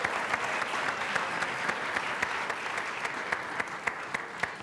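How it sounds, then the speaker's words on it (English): A lecture audience breaks into warm, sustained applause, dense clapping holding steady for several seconds with no voices over it. "Give her a nice round of applause."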